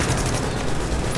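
Rapid automated turret fire in The Division during the General Assembly mission, a dense, continuous roar of shots, loud and unbroken for about a second.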